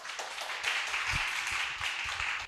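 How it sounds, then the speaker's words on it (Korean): Crowd applause welcomes an education official to the podium at an education forum in Seongnam, a continuous patter of many hands at fairly low volume with a few heavier thumps mixed in. "여러분 박수 부탁드립니다."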